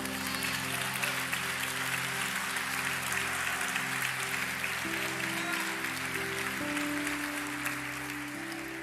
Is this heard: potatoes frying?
no